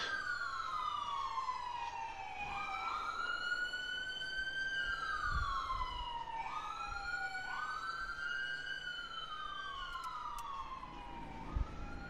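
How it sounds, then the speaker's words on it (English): A police siren wails in repeated rising and falling sweeps, fairly close and continuous, with a low vehicle rumble beneath. "I hear sirens."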